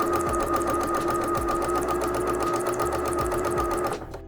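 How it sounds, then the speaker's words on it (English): A domestic sewing machine stitches fabric as it feeds the material through, making a steady, loud mechanical whir with a regular rhythmic chatter that stops abruptly near the end. "letting the sewing machine kind of feed it through"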